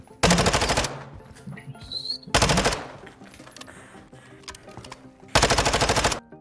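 Three loud bursts of rapid automatic gunfire from Call of Duty multiplayer on Modern Warfare, each about a second long, separated by quieter game ambience.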